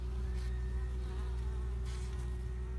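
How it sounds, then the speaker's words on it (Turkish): Worker honeybees in a queen-rearing hive hum in a steady, dense buzz, close and continuous, with a few individual bees rising briefly louder over the drone. "Çünkü şu an işçi arılar sökülmeye başladı"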